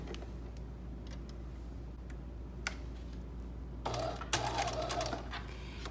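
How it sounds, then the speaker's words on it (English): A sewing machine stitches a loop of mesh fabric back and forth for a hat, a faint steady hum with light ticks that swells into a louder burst of rapid stitching near the end. "we're going to put it into our sewing machine"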